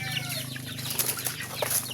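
Pet chickens at home cluck softly and steadily at close range, with a low continuous murmur of hens and a brief flutter of wings near the end.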